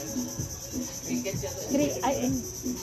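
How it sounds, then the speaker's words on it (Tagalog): Insects chirp steadily in Palawan nature, a continuous shrill drone with softer, irregular chirps layered beneath, moderately faint and with no voices. "yan yung tumutunog na insekto"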